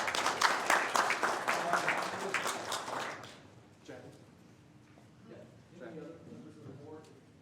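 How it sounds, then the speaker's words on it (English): Applause from attendees at a county board of supervisors meeting fills the hall for about three seconds, then stops abruptly, and a person begins speaking. "All right, we applaud her too."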